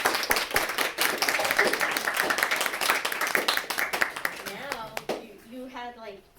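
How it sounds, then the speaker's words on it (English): Dense clapping from a crowd for several seconds, fading out as voices start talking. "one last round of applause"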